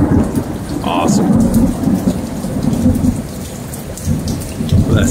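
Thunder rolls through a lightning storm in Lufkin, Texas, over steady heavy rain. The low rumble builds and holds loud and close for the whole stretch, with no speech.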